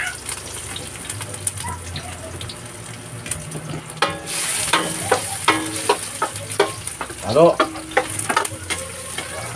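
Garlic, onion, leeks and celery sautéing in a pan, a loud continuous sizzle broken by repeated stirring scrapes and clinks, with no talking.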